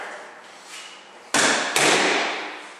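A cross and then a palm hook land on a pad held by a training partner during Jeet Kune Do drills, making two sharp, loud smacks about half a second apart that trail off in a roomy echo.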